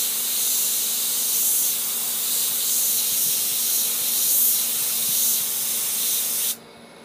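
An Iwata HPC-H airbrush sprays a steady, loud hiss of air and paint for several seconds before cutting off abruptly.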